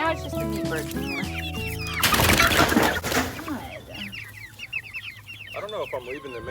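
Meat chickens cluck and chatter in a close flock, with a brief burst of louder rustling noise partway through and busy bird calls continuing afterward.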